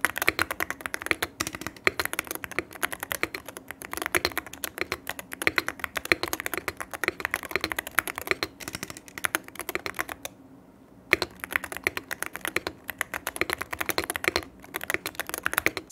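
Steady, fast typing on an Arbiter Studio Polar 65 Hall-effect keyboard, with dense close-up key clacks running throughout and a brief pause near the end before the keystrokes resume.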